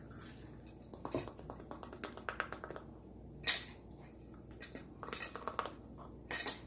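A spoon scoops baking powder into a homemade instant pancake mix, a series of light metallic clinks and taps against a bowl and container, close and fairly soft, with short pauses between strokes.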